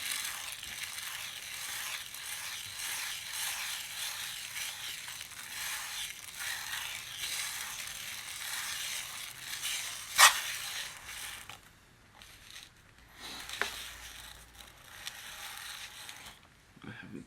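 Manganese violet pigment ground on a grinding plate with no rubber mat beneath, giving a steady gritty scraping and rubbing that runs close and fairly loud, with a sharp clack partway through and brief pauses toward the end.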